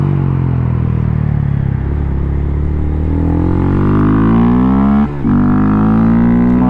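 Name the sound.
Lexus IS car engine and exhaust driving by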